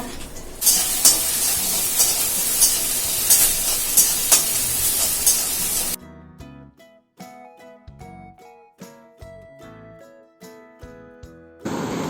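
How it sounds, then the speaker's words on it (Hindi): A spoonful of mustard seeds crackles and sizzles steadily in hot oil for vermicelli upma. It runs loud and close for several seconds, then gives way abruptly to music. "1 चम्मच राई, तेल में राई डाल दिया।"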